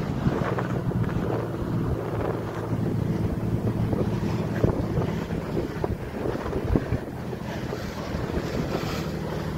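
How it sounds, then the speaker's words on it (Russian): Steady wind blows across an island reachable only by boat, rushing and buffeting the microphone nonstop, with faint water and surf sounds underneath. "Да, тут ветерок, конечно,"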